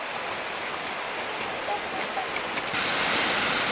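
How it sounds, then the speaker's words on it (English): Silver Falls waterfall in Oregon, a steady broadband rush of falling water that swells louder toward the end, with no voices over it. "Beautiful waterfall."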